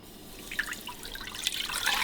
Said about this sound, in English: I'm going to add the chicken broth